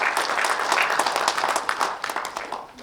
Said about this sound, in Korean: 박수를 한번 쳐주십시오.